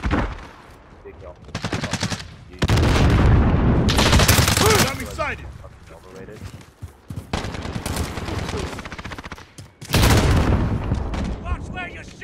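Bursts of automatic gunfire and heavy booms in a multiplayer shooter game on the Shoothouse map, loud close volleys coming in several dense stretches separated by quieter gaps, with voices talking underneath.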